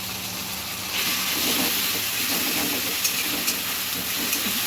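Onion paste frying in a pan with tomato for a maher kalia fish curry, giving a continuous hissing sizzle that swells as the paste goes in, with a few faint clinks.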